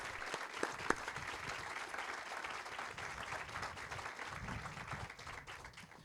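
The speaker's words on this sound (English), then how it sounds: "let's have a round of applause for the YMCA staff and the current and former board members" Steady applause from an outdoor crowd at a YMCA groundbreaking ceremony, sustained clapping for about six seconds with a few sharper claps standing out near the start.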